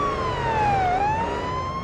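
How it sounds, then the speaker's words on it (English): A police car siren in the Police Simulator: Patrol Officers video game wails loud and close, one smooth tone sweeping down and back up over a low engine hum. "as soon as I activate my sirens"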